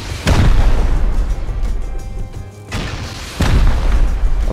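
Rocket explosions in Rust, a video game: two loud, deep booms about three seconds apart, each a sharp blast followed by a rumbling tail, with lower crackle and debris noise between them.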